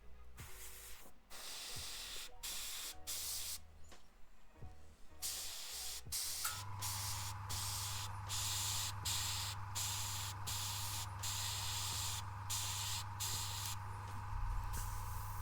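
Airbrush spraying paint onto a 3D-printed miniature, intermittent hissing bursts early on, then a continuous steady hiss joined by a low droning hum, fairly quiet and without voices.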